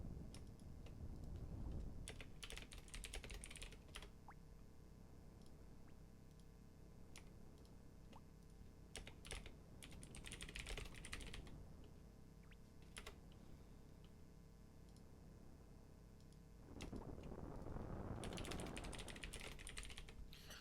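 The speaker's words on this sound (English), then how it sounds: "Sorry for the typing." Faint, quick clicking of computer keyboard keys in uneven bursts, with short pauses between runs of typing and a couple of louder clusters.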